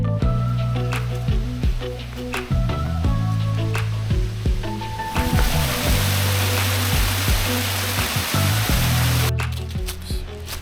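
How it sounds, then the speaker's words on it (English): A small waterfall spilling into a kiddie pool gives a steady close rush of splashing water, heard beneath louder low tonal sounds in the first half and then alone as a broad even wash. "Look at this little kiddie pool with a mini waterfall."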